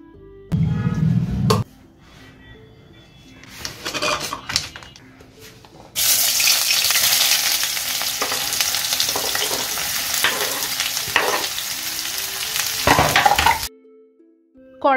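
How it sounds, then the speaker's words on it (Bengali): Chopped onions fry in oil in a kadai while a spatula presses and breaks them. A few scrapes and a short burst of noise come first, then a loud, steady sizzle hisses on for several seconds before cutting off. "কড়াইয়ের মধ্যে তেল দেওয়ার পরে আমি যখন পেঁয়াজ দিই তারপরে বেশ কিছুক্ষণ ধরে খুন্তি দিয়ে ওগুলোকে চেপে চেপে ভাঙি"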